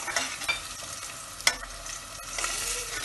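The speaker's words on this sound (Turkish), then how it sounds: "Bunu da bir güzel kavuruyoruz." Onions, carrots and tomato paste sauté in a pan with a steady sizzle, broken by stirring scrapes and a few sharp utensil clicks against the pan.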